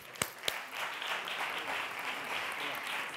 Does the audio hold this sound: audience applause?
yes